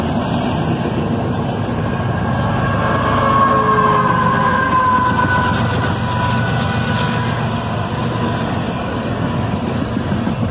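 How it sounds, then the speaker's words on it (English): A CSX ES44ACH locomotive, the second unit running distributed power in a freight train, roars past close by with loud continuous rumble and rail noise, a high screaming whine rising through the middle and easing off. "And there's that second locomotive screaming by, another ES44ACH."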